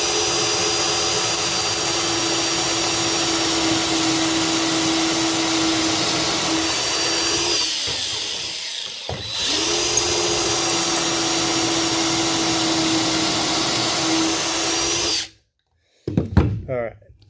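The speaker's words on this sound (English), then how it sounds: "So I'm just going to go ahead and drill two side-by-side holes." A power drill bores two side-by-side pocket holes through wood held in a Kreg pocket hole jig, a loud steady whine running for several seconds with a short dip between holes, then cutting off abruptly.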